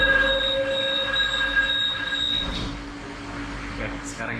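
A two-car Jakarta LRT light rail train rumbles along with a high electric whine and faint wheel squeal, steady and close, fading slightly toward the end.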